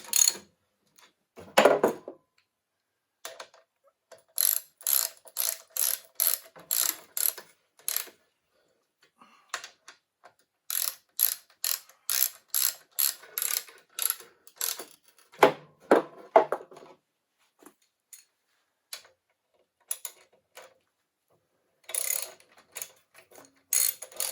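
Ratchet wrench tightening bolts on a Lycoming O-360 aircraft engine during overhaul, heard as bursts of rapid clicking strokes separated by short pauses, close and clear with no talking.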